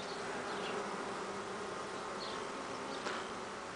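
Honeybees hum steadily around a swarm being caught by a beekeeper, a continuous close buzzing drone with a few individual bees passing near, no talk.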